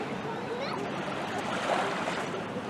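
Waves wash in at a beach in a steady, continuous surf hiss with some wind across the microphone, moderately loud throughout and with no clear voices.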